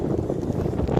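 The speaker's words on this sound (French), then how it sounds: "Ah, le vent de merde." Steady low buffeting of wind striking a microphone outdoors, a continuous rumbling roar with no distinct events across the whole second.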